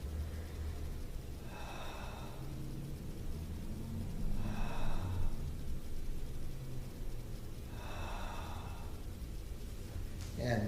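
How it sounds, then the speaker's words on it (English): Three slow, deep breaths taken during a standing leg exercise, each a soft breathy swell rising and fading at even intervals over a steady low background hum, fairly close and quiet, with no talking. "3 deep breaths"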